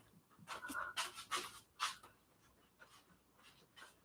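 A dog pants in quick, rhythmic bursts close by, with breathy huffs rising and falling and short quiet gaps between them.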